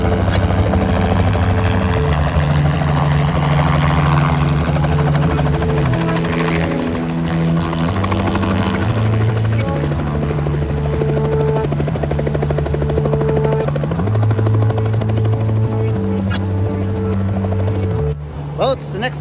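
A helicopter in flight, heard from inside as a loud, steady droning hum with pulsing tonal layers that lasts throughout, with voices talking over it.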